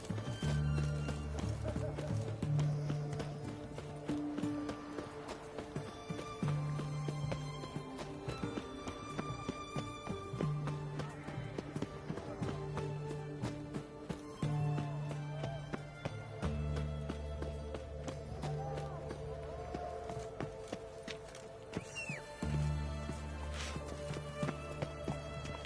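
Roach the horse gallops in The Witcher 3, with steady rhythmic hoofbeats running throughout, close and continuous beneath game music and ambience.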